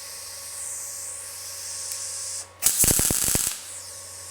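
A brief burst of tack welding on a car's lower front outer sill panel, a loud sputtering crackle lasting about a second with sharp pops, preceded by a steady background hum.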